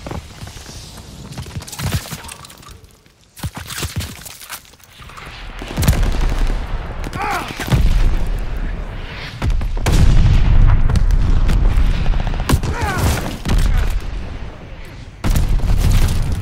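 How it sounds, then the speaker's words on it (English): Mortar rounds and gunfire in a Call of Duty: Vanguard free-for-all match, a barrage of loud, closely spaced booms and rapid shots crowding together over about sixteen seconds, with brief game voice lines in places. "Allies calling a mortar barrage."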